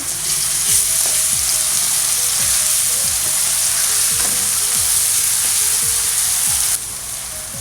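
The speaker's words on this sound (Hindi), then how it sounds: "अब इसमें ये लहसुन का पेस्ट ऐड करेंगे।" Loud, steady sizzling of garlic paste frying in a hot pan, with a spoon scraping and stirring at a regular pace, while cooking kidney bean curry.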